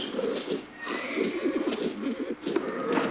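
A horse in a video game neighs in a long, shrill whinny over steady game ambience, with faint clip-clopping hooves beneath.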